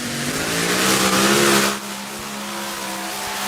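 A pulling tractor makes its run at an ETPC tractor pulling event in Bernay, front end lifted, as a loud, sustained engine roar drones steadily throughout, easing slightly partway through.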